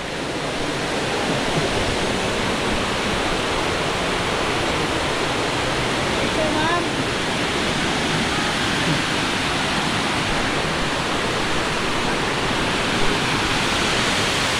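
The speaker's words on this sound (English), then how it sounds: "Nice little waterfall down here." A small waterfall at Kawasan Falls, Philippines, pours with a constant, dense roar, close by and unchanging throughout, with no talking.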